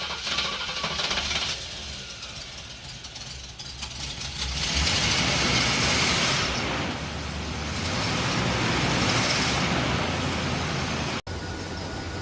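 A 1977 Oldsmobile Cutlass runs just after its first start of the year, a steady rumbling idle close by that swells louder midway and holds a continuous low drone.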